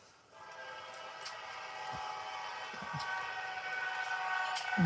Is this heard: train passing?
yes